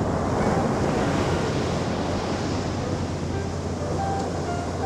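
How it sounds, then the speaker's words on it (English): Wind blows across a beach in a steady, loud broadband roar, buffeting the microphone, with a surf-like rush underneath and no speech. "we're out here in the wind"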